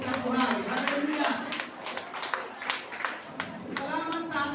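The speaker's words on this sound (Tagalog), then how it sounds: "malakas ng palakpak, papurihan palakpak sa Diyos ng buhay" A congregation claps loudly at an El Shaddai chapter's 32nd anniversary celebration in Macau, a dense, steady patter of many hands under an amplified voice speaking over the applause.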